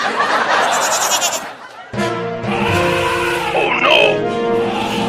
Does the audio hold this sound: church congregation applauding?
no